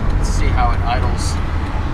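A Holley-carbureted El Camino engine idles with a steady low rumble close by, while someone talks over it.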